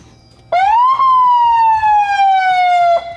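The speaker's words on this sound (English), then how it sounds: "It's got a siren." A vehicle siren wails close and loud, sweeping up and then sliding slowly down in a single long tone before cutting off.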